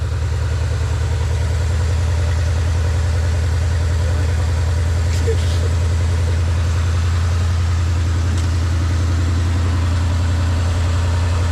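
An old Chevrolet squarebody truck engine, warmed up, idles steadily with a constant low rumble, close and loud throughout.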